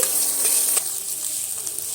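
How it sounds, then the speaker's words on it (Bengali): Chickpeas frying with turmeric in a wok give a steady, close hiss of sizzling oil, with a light scrape of stirring near the start and no voices. "হলুদের গুঁড়োটা দিয়ে আবারও ছোলার সঙ্গে এইভাবে ভালো করে আমি ভেজে নিচ্ছি"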